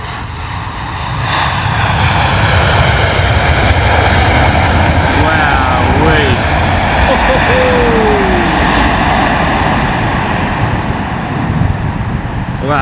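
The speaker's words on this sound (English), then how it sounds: "United Airlines absolutely screaming coming in the door." A United Airlines Boeing 767 from Washington lands at London Heathrow in wet, windy weather, its engines roaring loud and sustained throughout, with someone talking over the noise.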